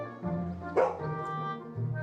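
Short yip from a dog in an animated French-dubbed cartoon, a single bark-like burst near the middle over a steady background music bed, moderately loud and close.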